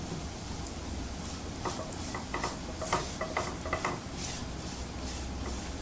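Grated dry coconut roasting in ghee in a pan, a soft sizzle under scraping stirs and light clinks of a spoon against the pan, close and unhurried, no one talking.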